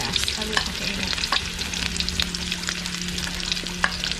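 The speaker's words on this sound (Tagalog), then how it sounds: "magigisa tayo ng sibuyas at yung mga ingredients natin" Onion and garlic sauté in a pan, a close, steady frying hiss broken by frequent light scraping and stirring clicks, with no voices.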